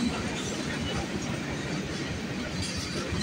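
Freight train behind three Union Pacific locomotives on a CN line at night, rolling past close and loud with continuous rumble, wheel clatter and faint squealing, with no talking over it.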